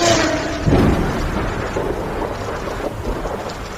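Steady heavy rain hisses throughout, with a deep rumble of thunder rolling near the start.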